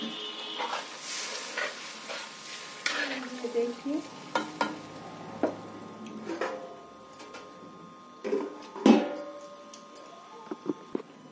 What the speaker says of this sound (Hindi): ये देखिए फ्रेंड्स मेरे आलू भुना गया है तो मैं पानी डाल देती हूँ इसमें